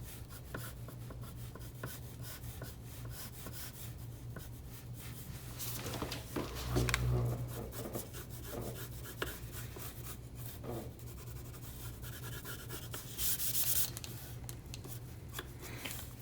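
Pencil lead scratches and rubs on paper while shading a springtime tree drawing, a soft continuous texture of strokes close to the surface, with a few louder brushing passes partway through.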